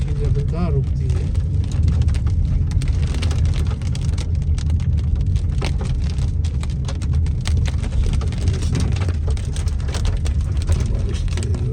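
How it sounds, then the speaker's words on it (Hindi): Heavy rain lashes down during a severe dust storm in DHA Phase 6, Islamabad, a dense, steady roar with low rumble, continuous and loud throughout, with faint voices underneath. "बारिश तेज हो गई है"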